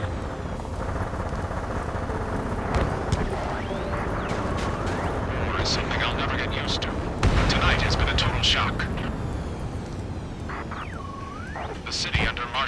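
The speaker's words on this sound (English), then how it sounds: "Gunfire and the roar of jets echoing through the streets." Ace Combat 7 battle: booming gunfire and explosions mix with roaring jets over a dense, rumbling background, with sweeping whines and a voice talking over it.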